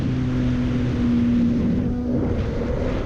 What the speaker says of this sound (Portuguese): Essa motinha aqui tá boa de motor.